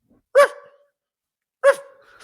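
A person imitates a dog barking, giving two sharp, loud, close woofs about a second apart in an otherwise quiet room.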